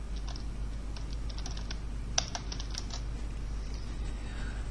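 Keys clacking on a computer keyboard while a heading is entered in an Excel spreadsheet, quick light taps in short bursts over a steady low hum, no talking.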